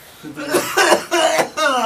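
Several short coughs in quick succession from a person nearby, loud and close, with no talk over them.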